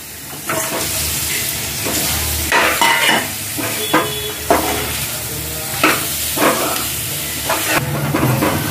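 Chicken pieces sizzle loudly in frying onion masala paste, a steady close hiss of frying broken by repeated scraping stirs, with no talk.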